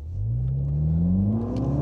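A MINI car accelerating hard at full throttle, its engine note rising steadily in pitch as it pulls through the power band, steady and fairly loud inside the cabin, with no talk.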